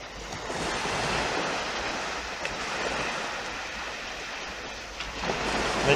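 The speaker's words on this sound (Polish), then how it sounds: "Aż fale już sięgają kamery, bo jest teraz przypływ." Sea waves at high tide at water level wash in a continuous, fairly loud hiss and roar close to the camera, swelling slightly at the end, with wind noise and no speech.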